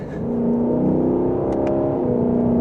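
Lexus LC500 with its naturally aspirated 471 hp engine, running at a steady, sustained drone with a rising rev near the start, close and loud with no talk.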